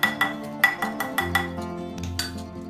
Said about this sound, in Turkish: Ve karışımı güzel bir şekilde ilk önce kaşık yardımıyla